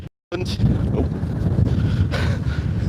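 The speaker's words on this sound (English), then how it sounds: "it's getting a bit windy now" Strong wind gusting on an outdoor morning walk, a loud continuous rumble of buffeting against the microphone with no voices.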